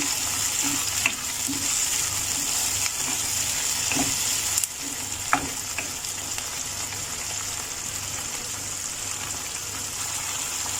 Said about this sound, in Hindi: अब इसे सौते करना है कि हमारा टमाटो भी सॉफ्ट हो जाए।